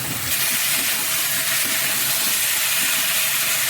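Spices with a little salt sizzle and fry steadily in a pan for a vegetarian potato and pointed gourd curry, giving a continuous loud hiss with no talking.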